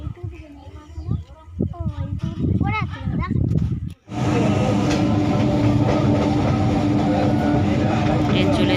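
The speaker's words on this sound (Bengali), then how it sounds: "তো এখন ট্রেন আসবে" A train rolls up to a station platform, its broad rumble and rail noise swelling in abruptly midway and holding loud and steady, after a stretch of people talking nearby.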